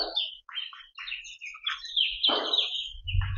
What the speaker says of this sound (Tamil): இந்த குருவிகளோட சத்தமெல்லாம் சூப்பராக இருக்குங்க